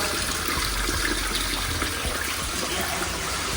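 Water steadily draining out of a flooded building after a Manhattan water main leak, a continuous loud rushing gush with no pauses and no voices.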